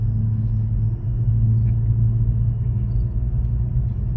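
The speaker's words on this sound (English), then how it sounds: "I got a car coming at me, so I'm waiting for it to go by." A passing car rumbles along a road on a warm day, a low steady engine drone that swells slightly as it nears and then holds, moderately close, with no voices.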